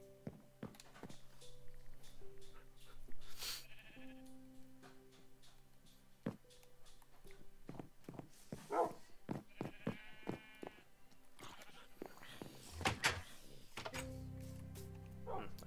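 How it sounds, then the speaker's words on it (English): Sheep bleating in the video game Minecraft, several short bleats scattered across the clip among game thuds and other effects, moderately loud in a busy game mix. "I have a number of sheep."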